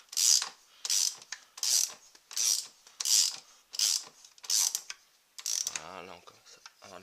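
A ratchet wrench tightens the front wheel axle nut on a 125 KDX, producing about eight evenly spaced bursts of metallic clicking close by. A short, higher creak follows near the end.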